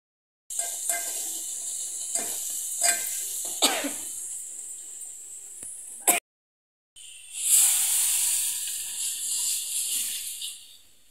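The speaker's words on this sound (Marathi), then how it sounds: "कढीला तडका दिलेला आहे" Hot tempering hits a pan of kadhi, a gram-flour curry, with a loud hissing sizzle that swells and then fades slowly, following a few scattered clinks and bumps.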